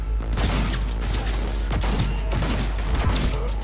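Continuous automatic gunfire in the Cyberpunk 2077 video game, loud and sustained, with dense overlapping shots and low booms filling the whole few seconds.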